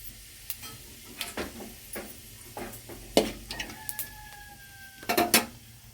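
Fennel seeds hit hot oil in a pan, producing sparse sizzling pops and crackles with occasional clatter of a utensil, and a brief faint whistling tone partway through.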